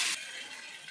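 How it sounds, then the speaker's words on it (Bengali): Water pours into a pot of spiced potatoes for boiling in a home fish curry; a short loud gush at the start settles into a steady, close hiss of running water. "এখন হালকা করে জল দিয়ে দেবো আলুটা সিদ্ধ হওয়ার জন্য"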